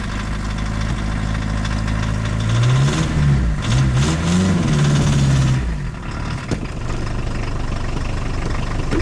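A 1984 VW Golf engine idles loud and close after a cold start, with a rough steady drone, a brief rev swell in the middle, and then a settle back to idle. A possible exhaust leak adds roughness.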